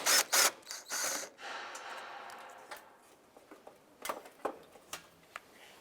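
Bolt being removed from under the fender of a 2001-2005 Honda Civic, with close ratcheting clicks and metallic ticks, a few louder bursts at first, then scattered softer clicks.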